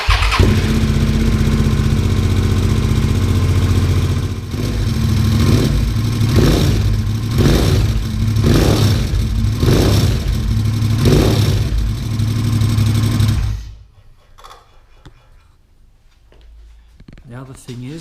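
A Suzuki V-Strom 650 with a worn Delkevic exhaust idles loud and close, with a rattle and several rhythmic blips of the throttle, then cuts off abruptly, leaving quiet background.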